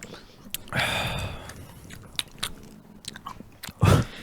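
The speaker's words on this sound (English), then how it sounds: "Because we're just sitting here chewing Skittles." Several people chewing Skittles candy around a podcast table, with soft wet crunching and biting that swell over a second or so and return near the end, close and moderately loud, with no talk.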